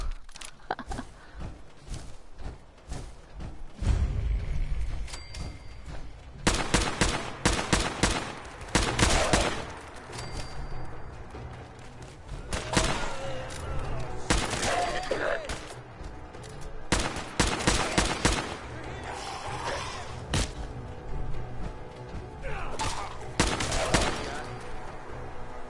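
Bursts of assault rifle fire from a Ghoul Slayer's rifle in Fallout 4 come in repeated loud volleys separated by short quieter gaps.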